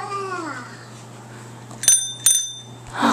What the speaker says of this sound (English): Oh, that's your bell.